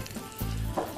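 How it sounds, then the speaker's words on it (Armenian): Chicken breast frying in a pan gives a steady, close sizzle with crackling bursts and a brief stirring scrape, loud and continuous throughout the short moment. "հավի կրծքամիսը տապակում ենք երկու կողմից"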